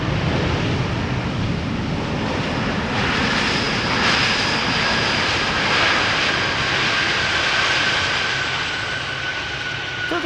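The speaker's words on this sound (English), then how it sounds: "I'm already seeing the A320 arriving from Tangier" An Airbus A320 arriving at Amsterdam Schiphol Airport gives a loud, steady engine roar that holds for the whole stretch, with a broad rushing wash and no talk.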